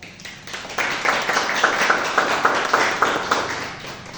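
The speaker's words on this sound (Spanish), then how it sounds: "Un aplauso, por favor." An audience gives applause after a welcome at a talk, a moderate round of clapping with sharp individual claps standing out, fairly close and steady for several seconds.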